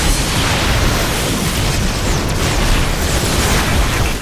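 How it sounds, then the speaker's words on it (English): Missiles explode in the video game Transformers: Fall of Cybertron, a loud, continuous roar of blasts and rumble with no clear gaps between hits. "got hit by a bunch of missiles"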